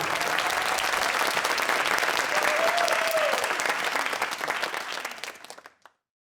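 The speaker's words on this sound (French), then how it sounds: "Aimez, applaudissez-vous s'il vous plaît." Dense audience applause at a televised concert, loud continuous clapping with a brief cheer, tapering off before cutting to silence near the end.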